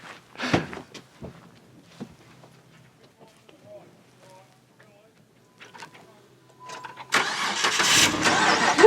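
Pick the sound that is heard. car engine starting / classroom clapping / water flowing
car engine starting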